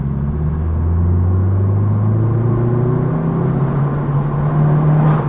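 Vauxhall Corsa engine pulling hard under acceleration on a national-speed-limit road, a loud steady droning rumble with rising engine pitch heard from inside the car, no talking.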